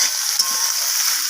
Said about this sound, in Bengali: এগুলো আমি 10 থেকে 15 মিনিটের মতো ভালোভাবে কষিয়ে নিয়েছি